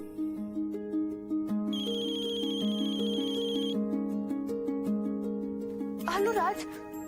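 Phone ringtone playing a repeating melodic tune at moderate loudness, with a brief voice near the end.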